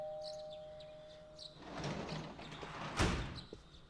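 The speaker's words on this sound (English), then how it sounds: "There's a doorbell. Who's at the door?" A doorbell chimes in the video game Persona 4 Golden, followed by a sliding door and shuffling thuds with a sharp knock-like hit near the end, no talk.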